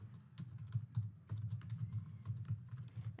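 Someone types on a computer keyboard, a quiet, fairly fast patter of key clicks in an irregular rhythm, close and alone.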